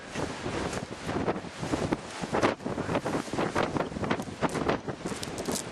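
Gusty wind on a bleak Scottish hilltop above the Moray Firth, buffeting the microphone in uneven roaring surges with no voices.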